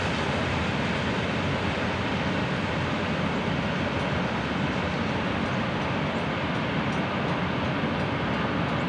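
Florida East Coast freight train FEC336, roughly 80 to 85 cars long, rumbles past steadily and loudly with a dense, continuous roar of wheels and cars that holds unbroken throughout, no talk over it.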